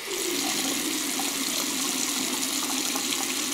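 Shower water running in a steady, even hiss of spray, continuous and moderately close with no voices.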